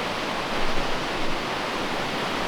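Waterfall at Gordale Scar in the Yorkshire Dales, running high after snow and wet weather: a loud, continuous broadband roar of rushing water, close by and unbroken, with no voices over it.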